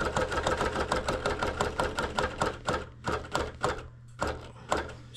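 A sewing machine bastes along the edge of a quilt, its needle thumping in a fast even rhythm over a low motor hum, then slowing into a few separate stitches near the end.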